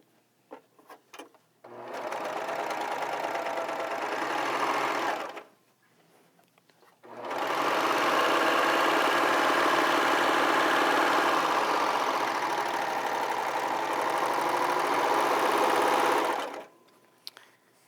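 A serger stitches a rolled hem with new upper looper thread in two fast, steady whirring runs, a short burst then a longer one, separated by a brief pause, with light clicks at the start.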